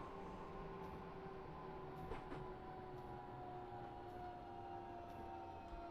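Steady low rumble of a Mittenwaldbahn shuttle train braking into a station, with a sustained whining tone and a brief squeal partway through, as it slows continuously without pause.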